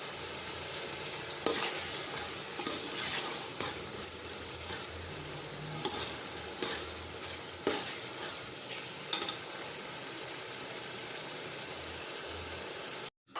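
Turmeric powder is stirred into white chickpea pulao frying in a pot. A constant oily sizzle runs throughout, broken by repeated scraping strokes of the spoon, close and unaccompanied by voices until it cuts off abruptly.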